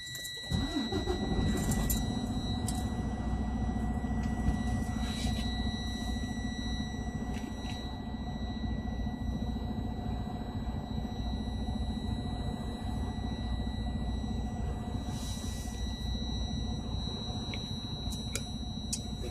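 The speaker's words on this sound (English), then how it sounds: "I'm going to start my truck and rebuild my air pressure while I'm thinking." A commercial truck engine cranks and catches at a CDL training stop, then settles into a loud, steady diesel idle rumble, with a continuous high warning buzzer tone sounding throughout as air pressure rebuilds.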